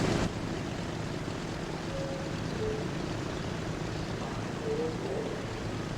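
An aircraft taxis in the Transport Fever game with a steady, broad engine drone and rushing hiss that stays at an even, moderate level from start to finish. A few faint tonal blips sit under the noise.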